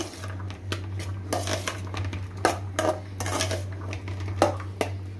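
A spoon clinks and scrapes against a metal bowl while peanut sundal is mixed with raw mango, onion, carrot and lemon, in irregular close taps and scrapes over a steady low hum.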